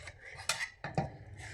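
A metal spoon mixing and mashing cooked dal in a pot, giving a few soft scrapes and sharper clinks against the vessel, close and quiet, with no talk.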